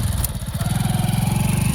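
A motorcycle engine runs steadily nearby, a low, even, rapidly pulsing throb like idling or slow riding, heard on its own without talk.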